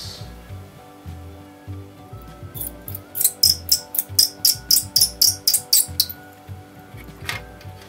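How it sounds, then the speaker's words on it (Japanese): A hand pin vise drills a 0.8 mm hole in a plastic Aoshima 1/24 DR30 Skyline Gr.A model kit, giving a close, steady train of about a dozen crisp, rhythmic scraping ticks. "じゃあここにピンバイスで穴を開けましょう。"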